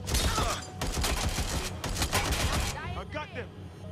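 Heavy gunfire rattles in Watch Dogs Legion, dense rapid shots close by for nearly three seconds, then fading into softer echoes and background sounds.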